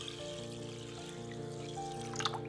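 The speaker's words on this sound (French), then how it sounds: "On verse de l'eau sur le riz et on mélange de façon circulaire pendant 30 secondes environ." Water is poured over rice being rinsed, making a soft, continuous trickle and splash. A steady tonal background hum sits underneath, with a brief brighter splash near the end.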